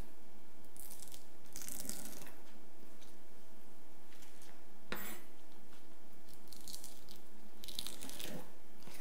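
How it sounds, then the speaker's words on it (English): A knife cuts the spine out of fresh kale leaves on a board, giving a few sharp, crisp chopping and slicing strokes spaced several seconds apart, close and fairly quiet. "What we'll do is we will get rid of the spine and keep the rest of it and cut it into little shreds."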